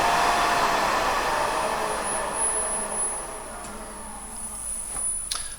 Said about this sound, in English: we're on the middle pulley, still very, very quiet, up to full speed, which is just under 2000